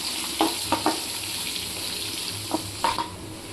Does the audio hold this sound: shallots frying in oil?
yes